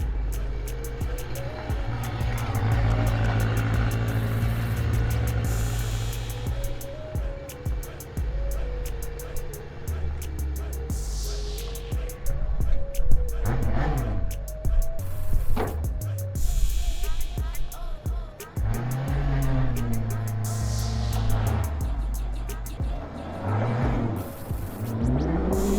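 John Deere Gator utility vehicle converted with a 600cc motorcycle engine drones steadily as it drives nearby, with rising and falling revs and a louder throttle surge partway through.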